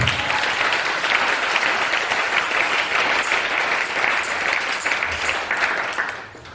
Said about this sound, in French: Donnez-moi l'acclamation à notre Seigneur Jésus-Christ.